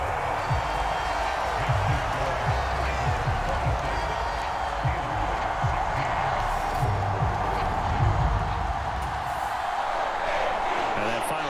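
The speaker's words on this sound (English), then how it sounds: "And the home crowd applauding." Simulated stadium crowd in Madden NFL 23 applauds and murmurs steadily, a broad roar of clapping and cheering with a commentator talking over it.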